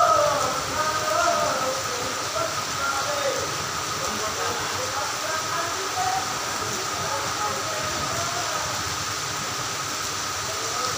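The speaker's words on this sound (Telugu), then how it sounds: "వేకువ జాము నుంచి ఎడతెరపి లేకుండా చిరుజల్లుతో కూడిన వర్షం పడుతుంది" Steady drizzling rain falls without pause from early morning during a cyclone in Andhra Pradesh, giving a continuous broadband hiss with faint background murmur throughout.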